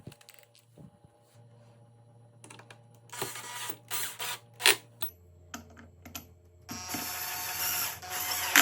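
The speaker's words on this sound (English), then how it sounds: "and then use the drill to tighten these screws in." A drill drives screws into a wooden chair during a joint repair: a close, steady motor whine that shifts pitch partway through, broken by short gritty bursts and clicks, with no talking.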